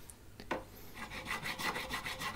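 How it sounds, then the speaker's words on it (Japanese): A small file rasps across a guitar nut during a nut replacement, making quiet, close, rhythmic back-and-forth scraping strokes with no voices. "ちょっとちっちゃいヤスリに変えまして"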